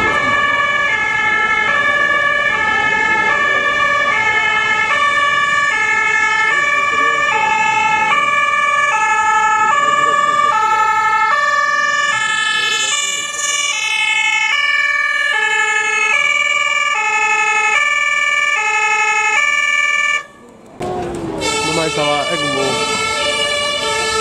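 A loud two-tone fire engine siren wails in a steady alternating pattern, close by, with traffic noise beneath and a brief break near the end.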